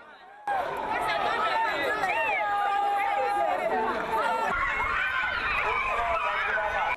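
A large, agitated crowd gathers as exam results are read out, with excited shouts, cries and overlapping voices rising into a loud, continuous babble that swells again partway through.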